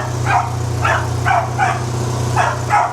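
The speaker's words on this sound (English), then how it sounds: "as you can see here, Sky likes to bark at tires" A dog named Sky barks at tractor or wagon tires on a hay farm, six sharp barks in an uneven rhythm, close and loud over a steady low engine hum.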